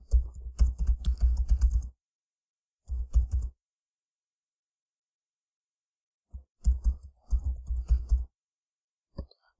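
Bursts of rapid typing on a computer keyboard, clustered into several runs of quick clicks separated by pauses, close and fairly clear, with a single stray keystroke at the end.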